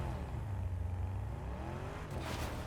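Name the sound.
Lamborghini car driving in Fortnite video game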